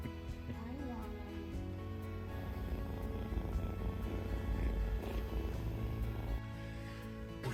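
A kitten purrs in a close, continuous, steady rumble that runs unbroken throughout. A low mechanical hum and occasional speech sit alongside it.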